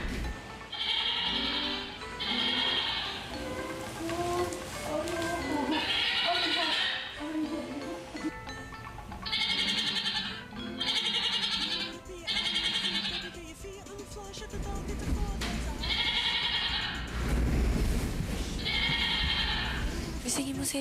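Goats bleat in repeated loud cries as a morning wake-up call inside a house, with people talking between and under the calls.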